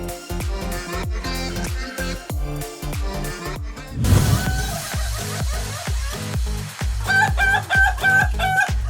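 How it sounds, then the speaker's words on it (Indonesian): Rhythmic poultry calls repeat steadily, with a louder crowing burst midway and clucking continuing after, fairly close and persistent. "Pagi-pagi gini dengerin suara ayam berkokok rasanya kayak lagi di kampung halaman"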